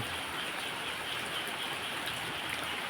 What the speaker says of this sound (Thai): เพิ่งตื่นนอนเนาะได้ยินเสียงฝนตกโอ้โห